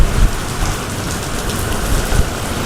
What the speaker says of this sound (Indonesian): Ini tuh lagi hujan banget ya